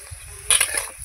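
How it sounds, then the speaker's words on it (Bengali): Potatoes frying in a pan, with a burst of loud crackling sizzle and stirring in the middle of the clip over a low background rumble. "আলুটা আমি ভালো করে ভেজে নেব"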